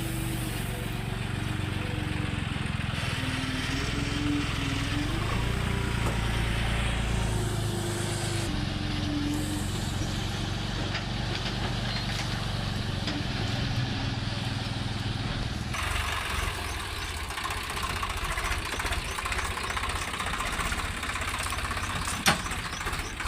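Farm tractor engine running steadily while a manure cart is unloaded into it, a continuous low rumbling idle throughout, with some background voices in the middle.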